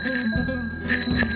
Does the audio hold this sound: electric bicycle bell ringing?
yes